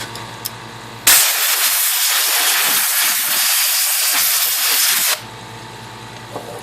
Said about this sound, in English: I got a big fan behind me blowing all this chemical spray out this way, out off my bench into open air